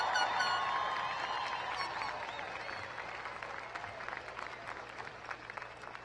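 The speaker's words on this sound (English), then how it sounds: "Let's give them one more round of applause." A crowd at an outdoor 2018 high school graduation ceremony claps and cheers for the graduating class, loud at first with a whoop, then gradually thinning into scattered clapping.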